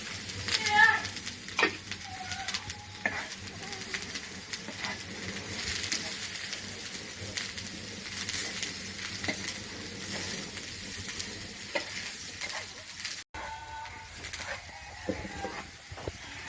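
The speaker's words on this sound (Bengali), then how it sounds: "ভেজে রাখা আলুগুলো দিয়ে দিচ্ছি।" Pre-fried potatoes tipped into a pan of neem leaves frying in oil, a steady sizzle with scraping stir sounds running throughout, close and moderately loud, with a brief cut near the end.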